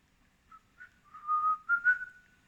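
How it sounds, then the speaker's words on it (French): A person whistles a short, wavering tune alone, a few rising and sliding notes clear against near silence. "je siffle un peu"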